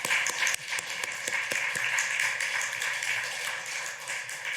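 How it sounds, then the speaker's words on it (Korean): A church congregation at a Korean worship service claps for the choir, a steady wash of moderate applause with some distinct sharp claps standing out near the start. "박수 한번 해주시죠."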